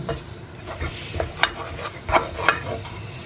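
Mysore pak mixture of gram flour and sugar roasting in ghee gives a soft sizzle under repeated stirring, with a spatula scraping and tapping the pan in irregular strokes.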